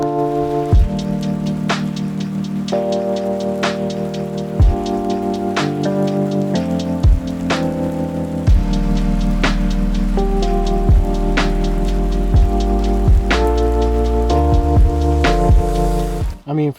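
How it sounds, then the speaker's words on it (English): Rain falls outdoors in a steady patter with scattered sharper drops striking a surface, under a constant tonal hum, with no voices. "It's raining. As soon as I'm trying to do something, it starts raining."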